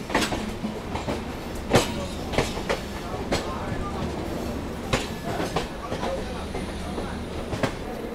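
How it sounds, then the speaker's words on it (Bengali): The Rajdhani Express stands at New Delhi station, with train rumble, rail clatter and sharp knocks echoing over a steady platform din, and people talking in the background. "ওই যে দাঁড়িয়ে আছে রাজধানী এক্সপ্রেস নিউ দিল্লি থেকে জম্মুতাওয়াই"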